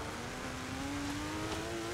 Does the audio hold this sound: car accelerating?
yes